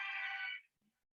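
A phone rings in a single short electronic burst, fairly faint and clean, cutting off after about half a second during a chemistry class lesson.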